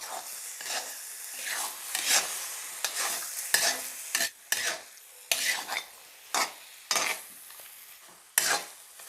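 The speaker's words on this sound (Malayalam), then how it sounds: "നല്ലോണം മിക്സ് ചെയ്ത് കൊടുക്കാം." Masala chicken fries in a pan while a spatula repeatedly scrapes and turns it, producing rhythmic bursts of stirring and clattering over a continuous sizzle, close and fairly loud, with no speech.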